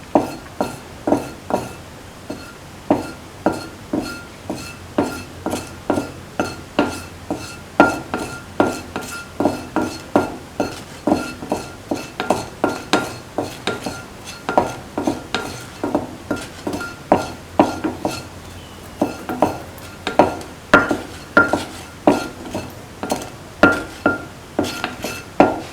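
A spatula scrapes and knocks against a pan over and over while bitter gourd pickle is sautéed. The clinks and scrapes come in a steady, regular rhythm, close and clear, with no talking.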